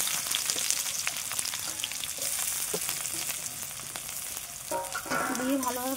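Onion sizzles steadily in hot oil in a pan for a greens stir-fry, with a dense, continuous crackle and the occasional scrape of stirring close by.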